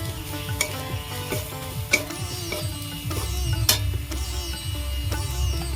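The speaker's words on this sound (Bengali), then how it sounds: "গরম মশলা গুঁড়ো আমি সব হাত চামচ করে দিয়েছি ভালো করে নাড়াচাড়া করে নেবো" A spoon stirring a fish mixture seasoned with garam masala and ground pepper in a pan, soft scraping strokes with occasional sharper metallic clinks over a faint steady sizzle.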